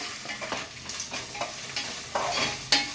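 Ginger garlic paste fries in a hot pan of oil, a steady close sizzle broken by several sharp bursts of spitting and stirring, with no voices.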